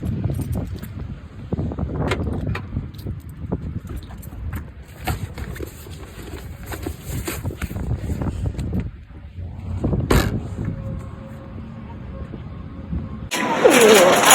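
A car engine cranks and starts, then runs with a steady mid-range hum from inside the vehicle, with thumps and handling noises around it and a brighter burst of sound near the end.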